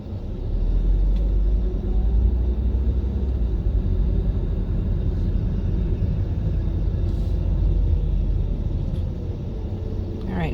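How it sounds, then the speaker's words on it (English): A Mercedes car rolling from one parking spot to another in a residential community, a low steady engine rumble at close range, with a voice speaking over it. "the Mercedes didn't like where they were parked and they just wanted to move from one spot to another"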